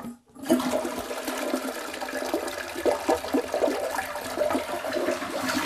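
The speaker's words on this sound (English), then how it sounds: "have you ever just looked for yourself and figured out which way your toilet swirls?" A household toilet in Alabama flushes with a loud rush of water swirling and gurgling down the bowl, heard up close and without talk.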